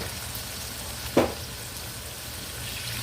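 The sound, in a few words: stirring food frying in a pan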